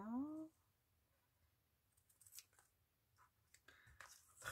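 Quiet snips and crisp clicks from scissors cutting a stamped paper card come in a few short bursts near the end, after a brief voice at the start, all at low volume.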